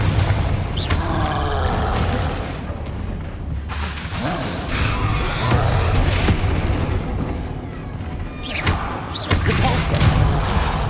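Fiery Confringo spell blasts in Hogwarts Legacy combat with a troll nearby: repeated heavy booms, thuds and slams over several seconds, loud and close, with bursts of crackling impact noise and brief voices from the fight.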